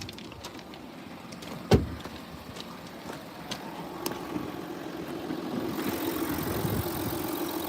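A 2014 Audi Q5 3.0 diesel engine idles steadily at close range, with a sharp click or knock early on and the low hum growing slightly louder toward the end.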